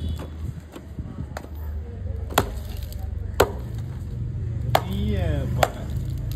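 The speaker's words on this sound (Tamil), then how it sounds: "இப்போ வந்து இந்த பாறை கருவாடை வந்து கட் பண்ணுறாங்க" Sharp knife chops strike through a large dried paarai (trevally) fish, about 25 kilos, on a traditional dry-fish cutting block, a handful of crisp irregular thwacks over a steady low hum, with someone talking in the background.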